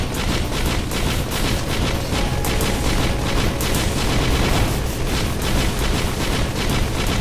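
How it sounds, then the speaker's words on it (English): Continuous barrage of explosive attack blasts in the Risk of Rain video game, dense rapid booms and crackles layered without pause, loud throughout. "All your attacks explode."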